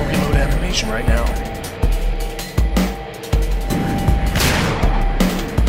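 Shotgun blasts and combat gunfire in the turn-based zombie game Dead State: sharp, loud shots spaced a second or so apart, heard beneath someone speaking steadily over them.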